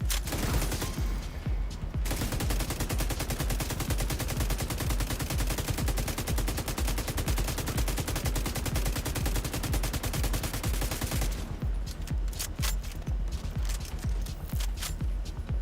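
Enemy gunfire in The Division 2, a dense, unbroken roar of rapid automatic shots that runs the whole time, loud and close, with sharper separate bursts toward the end.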